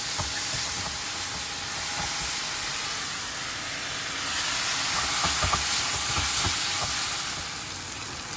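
Liver (kaleji) frying in a karahi over medium heat gives a steady, soft hiss of sizzling oil with occasional faint clicks of stirring, fairly quiet and even, no speech.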